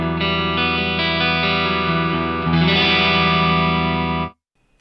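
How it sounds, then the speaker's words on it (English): A Fender Buddy Guy Strat played clean on its gold Lace Sensor neck pickup through an ODS Clean amp model on an Axe FX3, sustained ringing chords held for about four seconds, then a cut to silence. "This is a Fender Buddy Guy Strat."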